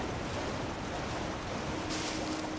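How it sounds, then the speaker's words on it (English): A waterfall in the video game Elden Ring: Shadow of the Erdtree rushes in a steady, dense roar of white water. The sound holds constant for the whole stretch with no voices. "No, there is another waterfall up ahead."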